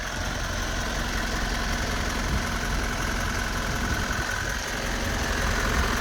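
A Mitsubishi FE84 flatbed truck's diesel engine idles steadily at close range with a rough, rumbling knock. The sound holds constant for the whole stretch, with no voices.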